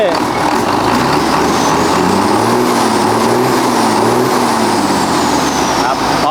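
A heavy Isuzu 6HK1 280-horsepower diesel truck engine roars loudly up close, its pitch climbing and falling as it is revved repeatedly.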